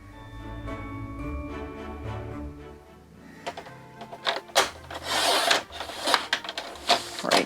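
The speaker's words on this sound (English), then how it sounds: "I'm going to use my scissors to separate those two" Scissors trim excess paper while a Christmas waterfall folio is being made. Soft sustained tones give way to a run of crisp snipping and rasping cuts in uneven bursts, close by.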